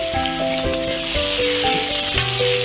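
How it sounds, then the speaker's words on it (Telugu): Onions frying in a pan for Andhra-style egg curry, a loud, continuous close sizzle with light stirring rattles throughout. "ఆనియన్స్ బాగా ఫ్రై అయిన తర్వాత"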